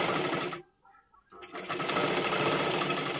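A sewing machine stitches a double seam with a loud, close mechanical whir. It stops for about a second, then starts again and runs steadily to the end.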